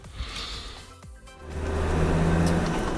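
A Land Rover Defender fitted with a Slick Shift drives on the road, a low engine drone building in the cabin after a short quieter moment and a gear change.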